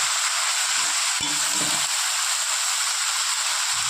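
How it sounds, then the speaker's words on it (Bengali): Fish fat frying with eggplant in a pan, a loud constant sizzling hiss close by, broken briefly by a knock and a rattle of a utensil partway through. "তেলের সাথে বেগুনটা হালকা ভেজে নেওয়ার পর"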